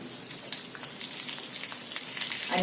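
Curry leaves, green chillies and garlic tempering in hot oil, a dense crackling sizzle with fine popping spatters running steadily throughout, close and moderately loud.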